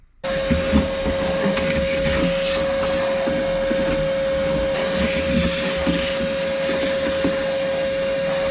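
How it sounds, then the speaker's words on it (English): Steady, loud drone of a vacuum cleaner working through the neglected interior of a 1985 Chevrolet Corvette that sat for 20 years, with a constant whine and rough shuffling as the nozzle moves, no talking. "But I guess first let's get the vacuum, right?"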